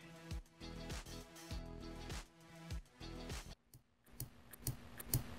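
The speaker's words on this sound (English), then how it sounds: "It does pop. Oh my God, it's like a zip." Squeezing a slime ball from a craft kit makes a run of close, rhythmic crackling pops like a zip being pulled, several bursts in a row, then a few scattered softer clicks.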